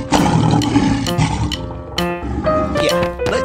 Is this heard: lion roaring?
yes